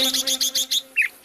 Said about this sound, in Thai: นกกรงหัวจุกมันริก